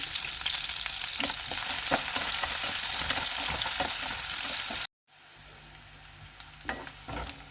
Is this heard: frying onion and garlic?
yes